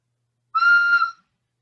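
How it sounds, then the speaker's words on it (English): A homemade wooden whistle turned from a piece of 2x6 gives one clear, steady, fairly loud note lasting about half a second, with silence before and after. "And they whistle."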